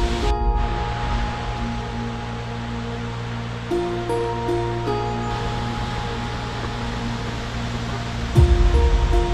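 Cascade at Pont d'Espagne in the Pyrenees near Cauterets, a steady broadband roar of falling water heard close, with some faint tonal background hum and no talk.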